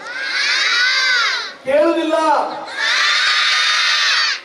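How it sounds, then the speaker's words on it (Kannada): A big crowd, many of them children, shouts and cheers at a Ganesh festival sports event in Beeri. Loud bursts of cheering rise on either side of a short dip where a voice speaks. "ಬೊಬ್ಬೆ ಚಪ್ಪಾಳೆ ಒಟ್ಟಿಗೆ ಕೇಳ್ಬೇಕು"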